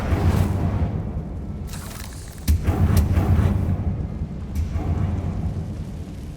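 Incendio fire spell cast in Hogwarts Legacy, a loud booming burst of flame with rumbling low roar and several sharp whooshing flares over a few seconds.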